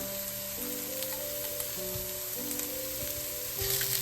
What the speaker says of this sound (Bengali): পেঁয়াজ আদা রসুনটা প্রায় ভাজা ভাজা হয়ে গেছে